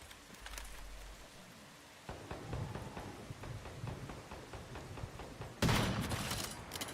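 Gunfire in Once Human, a steady run of rapid distant shots crackling over rain-like ambience, with a louder close burst near the end.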